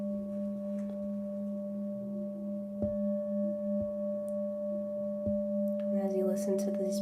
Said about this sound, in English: listen to these beautiful healing tones